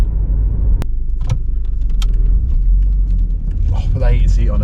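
A Volvo 940 Turbo with a TD04 15C turbocharger drives along the road, its low engine rumble steady and close inside the cabin while someone talks over it, with a sharp click partway through.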